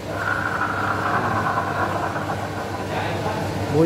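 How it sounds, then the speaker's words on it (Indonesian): Rough, steady grinding whir from the spinning rear wheel of an old Yamaha NMAX scooter raised on its center stand, continuous and close throughout with no pauses. "Kali ini satu keluhan dari unit NMAX OLD ya, dimana posisi standar 2 ya, standar tengah, dan kita putar untuk rodanya ada bunyi"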